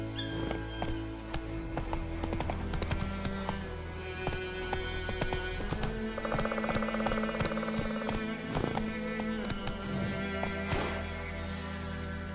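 Geralt's horse Roach galloping in The Witcher 3: a steady rhythmic hoof clatter throughout, close and continuous under game music, with no talk.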